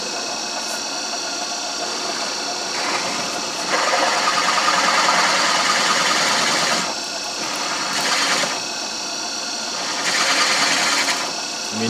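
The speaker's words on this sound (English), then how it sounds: "let's get some countersunk holes bored in this" A countersink bores countersunk holes in phenolic material, a machine whirring steadily with several louder surges of cutting as the tool engages the workpiece, close and fairly loud.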